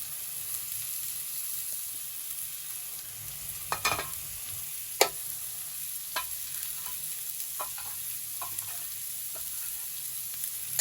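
Spices go into a pan that hisses with a soft, steady sizzle, broken by sharp clicks and taps of a spoon scraping and stirring nearby, no voices.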